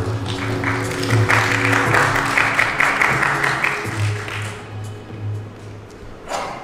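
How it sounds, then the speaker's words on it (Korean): An audience at a Hyundai Nexo hydrogen fuel-cell car presentation applauds as the next presenter comes on stage, dense clapping that fades after a few seconds, with a low hum and a faint tap at the end. "큰 박수"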